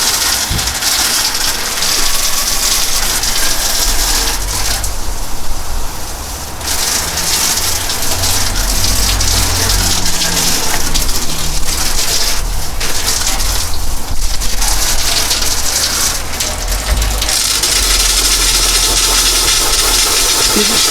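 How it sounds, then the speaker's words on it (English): A cartridge-operated water fire extinguisher discharging, a loud continuous rushing spray that lasts throughout with a few brief dips and surges in force near the end, no talking. "The extinguisher's running out of water."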